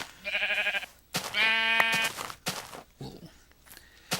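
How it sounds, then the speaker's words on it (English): Sheep in the Minecraft video game bleat twice, two clear harmonic calls up close, followed by softer scattered clicks and game sounds. "Ooh, black sheep."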